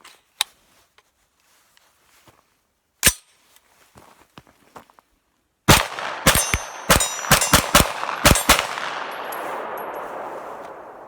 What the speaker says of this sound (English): let's see how the FM9 likes Hornady Critical Defense